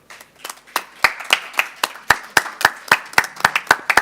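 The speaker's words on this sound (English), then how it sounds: "If we'd offer them a round of applause" An audience claps for a conference panel at an accessibility event, a sparse, uneven patter of hands that builds into steady applause, fairly close and with no talk over it.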